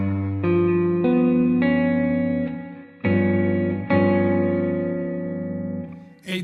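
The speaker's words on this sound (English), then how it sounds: "A dominant chord with a sharp 11th sounds like this." Dominant chord with a sharp 11th, sounded as a clean sustained voicing with notes entering one after another, struck again partway through and left to ring, closing with a short new attack.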